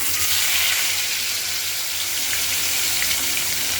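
Fish frying in hot turmeric-tinged oil for a spicy fish curry, a steady, dense sizzle and crackle that fills the clip at even loudness, close by, with no voices.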